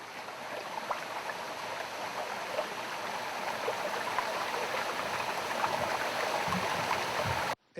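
River water flows steadily over sandstone in the Brazilian highlands, a continuous close rushing and trickling stream sound at an even level that cuts off abruptly at the end.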